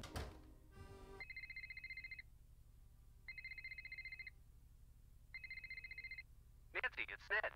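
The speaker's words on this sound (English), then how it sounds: "we will get a phone call." A telephone rings three times in steady, evenly spaced electronic bursts within the Nancy Drew video game The Captive Curse, loud and alone over a low hum, followed by a brief clatter.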